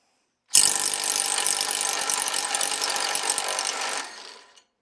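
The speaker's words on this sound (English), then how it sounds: "Ingersoll Rand at 160, better than the air gun" An Ingersoll Rand electric impact wrench set to 160 runs in one continuous burst of dense, rattling hammering for about three and a half seconds, then cuts off and trails away quickly. It sounds loud and close, with no talking.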